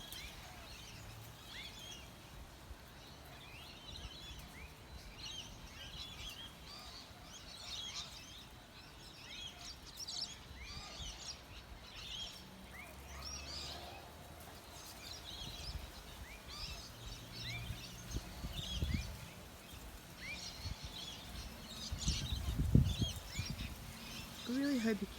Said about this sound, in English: I really hope you can hear those birds.